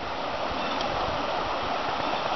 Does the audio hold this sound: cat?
no